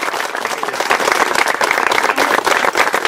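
Loud, dense applause from an audience at a plaque presentation ceremony, a continuous close wash of many hands clapping without pause.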